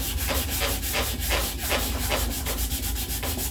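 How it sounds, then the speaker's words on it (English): A Makita sander with its backer pad removed scrubs across laminate, giving a steady, continuous rubbing and sanding noise with a slight rhythmic pulse, loud and close, with no talk. "I'll take the backer pad off of the Makita and I'll just sand it this way"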